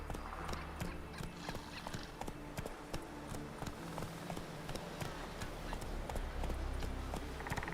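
Roach, the horse in The Witcher 3, gallops with a steady, rapid clip-clop of hooves at moderate distance over a soft ambient bed, with a faint voice speaking underneath.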